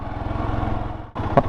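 Royal Enfield Himalayan motorcycle engine running steadily nearby, a continuous low throbbing idle that dips briefly, then resumes with a short higher rise.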